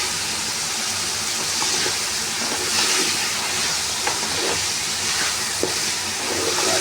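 Chicken and vegetables frying for hot and sour soup, a loud steady sizzling hiss that fills the whole stretch with faint clinks underneath, close and continuous.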